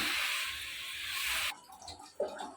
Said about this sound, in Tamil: தண்ணி அளந்து ஊற்றியாச்சு